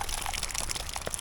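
Rainwater running off a tarp and pouring into a container during rainfall in woodland, a continuous close splashing trickle with small drips, with no talk over it.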